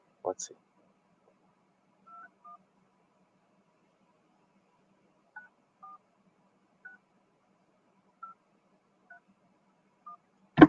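A phone call is dialed on a telephone keypad: about ten short, evenly spaced dual-tone beeps over several seconds against near silence, with brief bursts of noise at the start and end.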